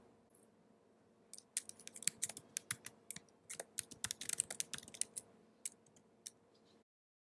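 Rapid clicking of keys on a computer keyboard, irregular bursts of typing close by, ending abruptly in silence.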